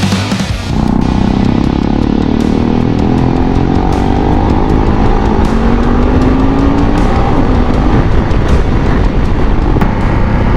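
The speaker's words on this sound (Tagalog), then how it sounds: "Dami talaga sasakyan, pababa man or paakyat ng Tagaytay." Heavy road traffic on Tagaytay Santa Rosa Road on a Saturday, with cars and motorcycles, a loud continuous engine rumble with revving and passing vehicles, close by, with no talk.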